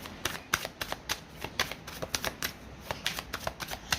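Tarot cards are shuffled and drawn in quick, crisp bursts, a near run of light riffling snaps and slaps repeating unevenly, with no talk.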